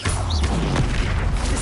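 The Expelliarmus disarming spell cast in Hogwarts Legacy: a loud, dense magical blast with a booming impact and a brief rising whistle, up close and sustained for a moment.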